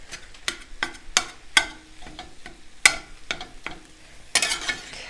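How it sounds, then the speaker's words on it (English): Food in a pot on the stove gets stirred with a utensil, giving a series of sharp scraping clatters and knocks at an irregular rhythm over a faint sizzle, close by and with no talking. "I'm just going to give this a stir"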